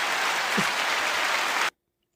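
Canned applause from a podcast soundboard: a dense, steady wash of clapping at even loudness that cuts off abruptly, leaving silence.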